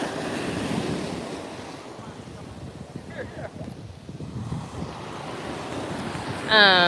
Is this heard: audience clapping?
no